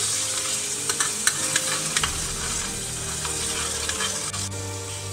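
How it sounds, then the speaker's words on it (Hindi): Garlic ginger paste sizzles steadily in about half a cup of hot oil in a pot while being prepared for beef nihari, with soft stirring clicks and scrapes scattered over a constant close frying hiss. "इस ऑयल के अंदर अब हम लहसुन अदरक की पेस्ट डालेंगे 1 टेबलस्पून"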